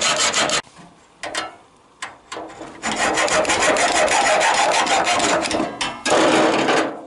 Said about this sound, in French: je prends une scie à métaux et je commence par faire une entaille à cet endroit-là